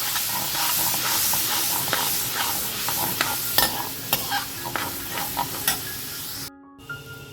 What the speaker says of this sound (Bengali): আমি এবার এর মধ্যে সামান্য একটুখানি জল যোগ করব।